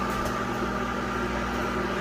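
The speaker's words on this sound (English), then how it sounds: "you see the microwave is going around and around, cooking everything even" An old microwave oven, at least ten years old, running while it cooks bacon, giving off a loud, constant close-up hum with a steady mechanical drone and no talking.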